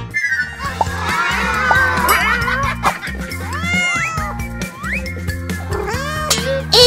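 A kitten meows repeatedly, its rising and falling cries sitting over steady background music in a children's toy-play setting.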